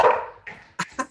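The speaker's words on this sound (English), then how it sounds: "Your dog answered already." A dog gives one loud bark followed by a couple of short, sharp yips, close and with no one talking.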